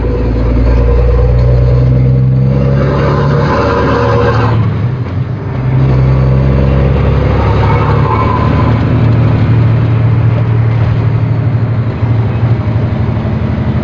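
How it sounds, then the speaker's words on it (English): A loaded semi truck's engine roars loudly as it accelerates after a gear shift, its exhaust pipes ringing. The drone is close and continuous from inside the cab, dipping briefly mid-shift before climbing again. "this truck is very loud, no doubt about that"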